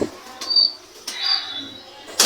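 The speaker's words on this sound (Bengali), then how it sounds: "এখানে গোল্ডেন কবুতরও দেখছি ডিম পেড়েছে।" Golden pigeons in a loft give short soft coos and chirps between bursts of wing flapping, close and fairly quiet over a couple of seconds.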